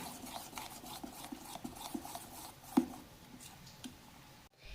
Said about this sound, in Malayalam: വെളുത്ത എള്ള ഇട്ട് ഇനി കറുത്ത എള്ള ചേർത്ത് നന്നായിട്ടൊന്ന് മിക്സ് ചെയ്യണം